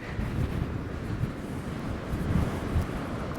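A strong wind drives sand across the exposed southernmost point of Europe, roaring against the microphone as a steady, dense rush with gusty swells and no voices.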